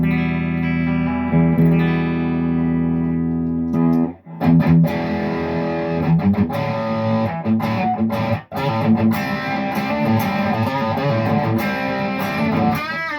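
Electric guitar played through a clean 50-watt amp with the distortion set low, giving a moderately overdriven tone; chords and riffs ring continuously at steady loudness with a couple of brief pauses, no talking.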